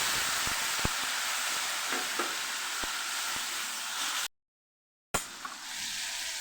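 Chopped tomato hits hot oil tempered with cumin and asafoetida for a Kathiyawadi fried brinjal and potato curry, raising a loud steady sizzle with faint stirring clicks, briefly cut by a short silence before the frying resumes.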